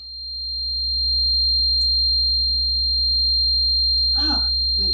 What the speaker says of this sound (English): My ear's ringing.